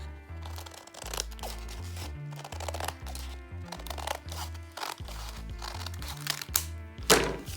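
Scissors cut junk mail paper for handmade autumn notebooks, making close, repeated crisp snips and paper rustling over soft background music.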